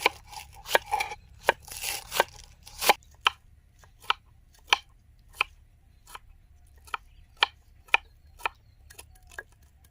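Cabbage is being chopped with a knife, giving sharp, evenly spaced thuds on a cutting board. The strokes come as a quick cluster at first, then settle into a slower, steady rhythm, close and clear.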